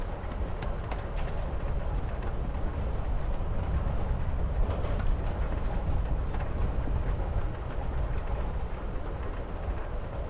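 A rumbling train ride in the video game Life Is Strange: Before the Storm, a steady, dense rolling noise with faint rhythmic clatter and no gaps, heard alone without speech.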